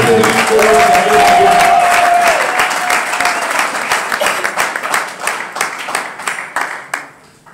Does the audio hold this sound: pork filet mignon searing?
no